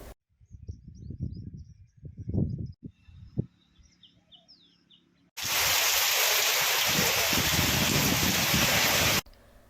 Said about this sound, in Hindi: लेकिन कल रात से फिर से बारिश शुरू हो गई।